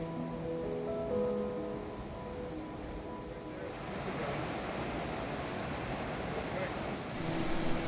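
Waves and wind through palm trees on the Pacific side of an island in the Marshall Islands make a soft, continuous wash of surf and breeze, steady and fairly faint, swelling a little toward the end.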